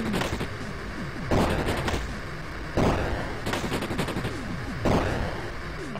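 Gunfire from the NES-style video game Dark Void Zero, with a jetpack-hovering hero shooting upward: sharp blasts recur roughly every second or two over a steady electronic game soundtrack.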